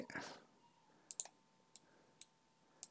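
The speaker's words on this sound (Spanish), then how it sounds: "ahora vamos a hacer un clic aquí" A computer mouse clicks sharply and quietly, with four or five scattered single and double clicks over a soft background hiss while a 3D garment is being designed.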